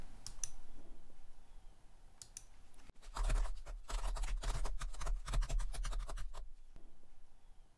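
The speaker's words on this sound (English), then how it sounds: "now I'm going to type into the editor window a lame attempt at a header for our own fprintf" Fingers type rapidly on a computer keyboard, producing a dense run of crisp clicking keystrokes for a few seconds over a steady low background hum, with no talking.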